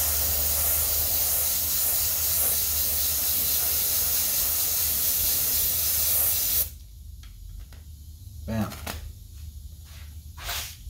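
Airbrush spraying paint over a fish scale stencil, a steady loud hiss lasting several seconds that then stops, followed by quieter short bursts and handling noises.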